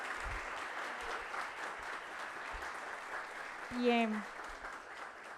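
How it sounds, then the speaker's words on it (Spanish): Audience applause for a panel of experts at a Spanish-language moderated discussion, a steady moderate wash of clapping under a brief spoken word and room murmur. "pido un fuerte aplauso para nuestros panelistas"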